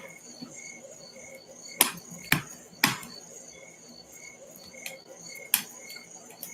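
Crickets chirp steadily on a summer night beside a crackling fireplace, with a few sharp pops and snaps of burning wood standing out over the constant insect trill.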